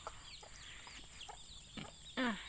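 Soft clucks from a hen with her chicks on a farm come in short, scattered bursts at low volume, ending with a brief, louder run of high chick peeps.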